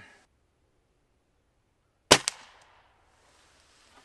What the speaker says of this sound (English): we're going to shoot a 5-shot group